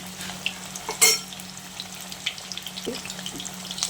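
Chicken lollipops fry in hot oil over medium gas heat, giving a steady low sizzle with a brief louder burst of spatter near the start and scattered small pops after, with no voices.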